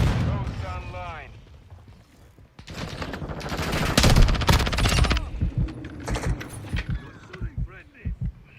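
Rapid bursts of automatic gunfire in a Call of Duty Modern Warfare II match fill the middle of the clip, loud and dense, with game voice chatter before and after and lighter shots trailing off.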